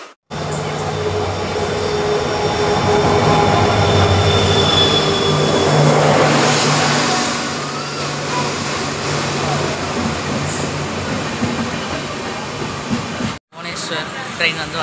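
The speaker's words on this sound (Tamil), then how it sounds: "ட்ரெயின் வந்துருச்சுன்னு நினைக்கிறேன்." A train pulls into a station platform at Paramakudi on the Tiruchirappalli–Rameswaram express line, a loud sustained rumble and hiss of wheels and engine building and easing over about fourteen seconds, with a crowd of waiting passengers talking underneath.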